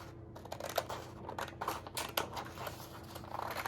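Scissors snip out a paper red rose tea bag for a junk journal, a series of close, crisp cuts and paper rustles in uneven rhythm.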